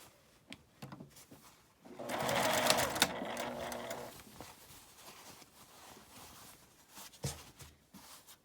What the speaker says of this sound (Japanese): ここに端ミシンをかけます